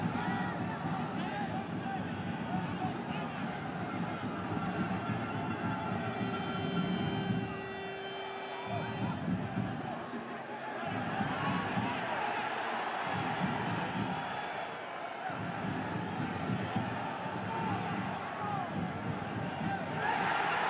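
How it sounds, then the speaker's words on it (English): Heavily partisan stadium crowd of Guatemalan supporters at a Concacaf Champions League match between New York City FC and Comunicaciones, a steady roar of massed voices with swells of cheering throughout, running under a commentator's talk. "Crowd here heavily partisan to the Guatemalans"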